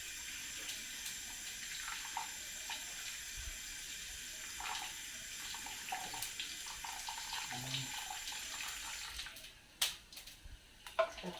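Water running and draining in a kitchen sink during cooking of shrimp paste with pork, a steady broadband wash with a few louder splashes and clatters toward the end; no talking.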